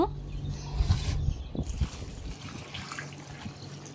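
Water runs over tamarind being rinsed by hand, a steady close splashing in the first second or so, then thinning to quieter trickles and faint background noise.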